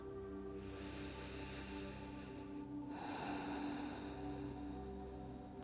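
Slow, deep breathing during a gentle yoga session, a soft drawn-out inhale then a quiet airy exhale, close and faint against a still room.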